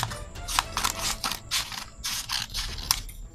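Scissors snip through fabric in a steady series of crisp, close cuts, about two per second, with no talking.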